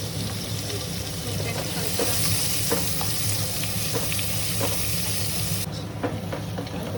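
Onions fry in hot oil for a mutton biryani while being stirred, a steady close sizzle with occasional light scrapes of the spoon against the pan, the hiss easing slightly near the end, with no talking.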